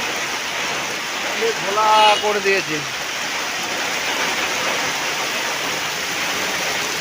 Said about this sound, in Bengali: আজকে প্রচণ্ড বৃষ্টি হচ্ছে